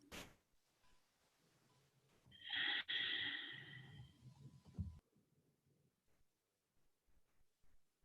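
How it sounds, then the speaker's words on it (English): Deep, slow breathing: a long steady inhale through the nose followed by a breathy exhale through the mouth, close and fairly quiet, with near silence after. "Long and steady in through your nose, and then out through your mouth."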